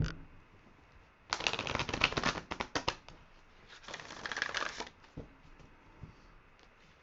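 Tarot cards being shuffled by hand: two quick bursts of riffling and flicking, close up, separated by a short pause, then a few soft taps as the deck settles.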